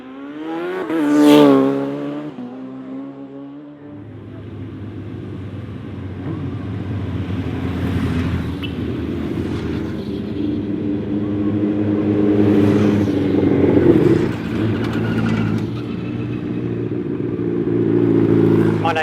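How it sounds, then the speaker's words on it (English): A 2014 Chevrolet at the Brighton Speed Trials on the sea front builds revs, then the clutch drops and it launches into a long, loud, rising engine roar that stays strong to the end, with commentary over it. "Get himself settled, building the rev. Now goes the clutch."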